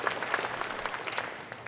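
Brief burst of audience applause at a school district meeting, a short patter of clapping from a modest crowd, fairly near and steady.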